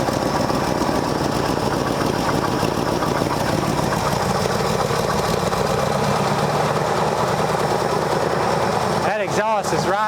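An abandoned 1971 Ford Mustang engine runs steadily and loudly up close, with a rough, knocking idle that continues throughout before a brief mechanical clatter near the end.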